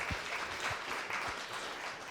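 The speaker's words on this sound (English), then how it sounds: "let's give you all a round of applause" An audience at a storytelling event gives a quiet, distant round of applause, a soft continuous patter of many hands with a few low thumps.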